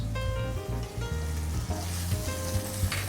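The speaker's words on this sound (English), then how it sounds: "sear our lamb shoulder on all sides" Lamb shoulder sears in hot oil in a pan, a steady close sizzle running throughout with a low hum and faint tonal kitchen noise underneath.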